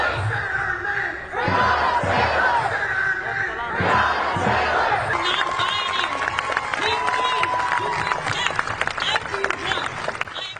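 Massive crowd of protesters shouting in the streets of Portland at night amid tear gas and police, a dense roar of many voices with surging yells and chants, close and loud throughout.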